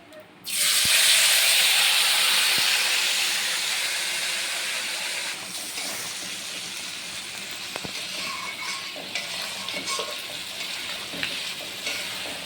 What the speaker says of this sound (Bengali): তেল দিয়ে দিয়েছি, এখন গরম হয়ে গেছে তেল, এখন এই মেখে রাখা চিংড়ি মাছটা দিয়ে দেবো।